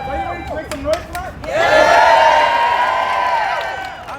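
A crowd of park workers at an evening rally cheering, whooping and clapping loudly and continuously after a speaker's voice over a microphone, the roar building and holding steady.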